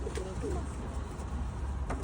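Pigeons coo softly in repeated low phrases, with a steady background hum and faint voices.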